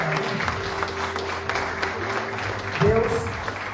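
A church congregation claps together near the end of a worship service, a sustained crowd applause with voices and a held musical tone underneath.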